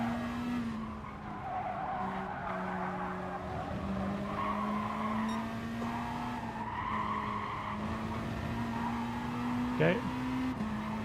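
A race car engine in GT Sport drones and rises and falls as the throttle goes on and off, with tire squeal over it and a person talking throughout.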